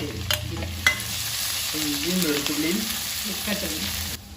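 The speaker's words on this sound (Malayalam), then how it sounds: "ഇതിലോട്ട് നമുക്ക് 2 ടേബിൾ സ്പൂണോളം ചോപ്പ് ചെയ്ത് വെച്ച വെളുത്തുള്ളിയാണ് ഇതിട്ട് കൊടുക്കാം" Two tablespoons of chopped garlic with a little chopped ginger hit hot oil in a pan, giving a soft steady sizzle for a few seconds, with a couple of sharp utensil taps near the start.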